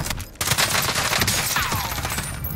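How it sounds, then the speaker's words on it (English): Rapid automatic gunfire in a video game, loud, continuous bursts for a couple of seconds with no talking. "A gun."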